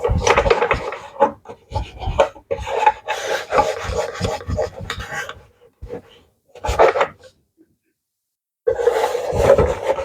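A wax block is rubbed over the surfaces of a lower saw guard in a series of close rasping strokes, with short pauses and a silent stretch before the rubbing resumes.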